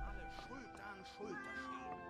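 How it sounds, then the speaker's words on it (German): Cat meowing in a Gothic 2 mod video game, several drawn-out, bending meows in quick succession, clear and fairly close over a faint game background. "Oh mein Gott, eine Katze! Hier ist irgendwo eine Katze!"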